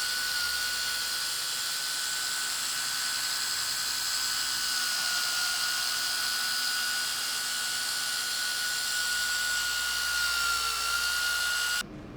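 Power polisher running steadily at speed setting 3 on gloss black plastic car trim, a loud, close, continuous high whine with a constant tone, cutting off abruptly at the very end.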